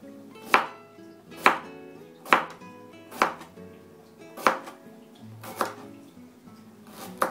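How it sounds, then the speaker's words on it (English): A knife chops through green beans on a cutting board with eight sharp, evenly spaced strokes, each about a second apart, close and clear with no talk. "we want to trim and cut a good handful of green beans"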